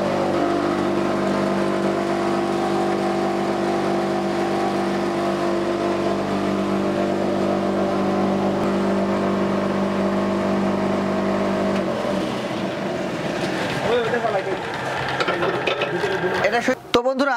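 An auto hammer mill pulverizer grinding maize and wheat runs with a loud, steady motorized drone and layered whine for about twelve seconds, then winds down into rattling, uneven mechanical noise.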